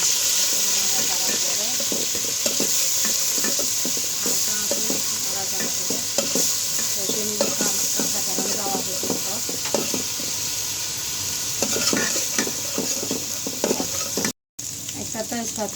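Onion and garlic paste frying in a pan for fish kebab, with a loud continuous sizzle and rhythmic scraping as it is stirred, close up, with a brief dropout near the end.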